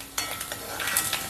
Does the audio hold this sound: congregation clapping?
no